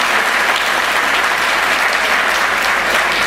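An audience at a Pasmanda Muslim Samaj workers' gathering applauds loudly to welcome a national president, with dense continuous clapping filling the whole stretch at close range.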